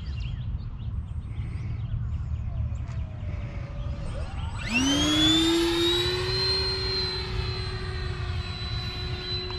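A Flex Innovations Flexjet PNP RC model jet flies in to land from the north, its ducted-fan whine rising sharply to a loud, sustained high-pitched scream as it passes close, over steady outdoor background noise.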